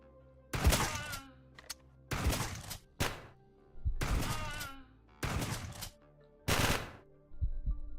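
Shotgun blasts in the Quasimorph video game, about five heavy booming shots spaced roughly a second apart, each with a loud broadband burst and short decay, close and prominent.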